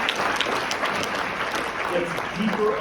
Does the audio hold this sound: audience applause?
yes